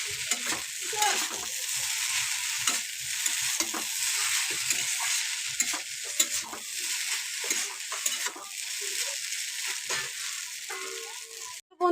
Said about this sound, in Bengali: ম্যাগি মশলাটা দিয়ে খুব ভালো করে ভেজে নেবো আর একটু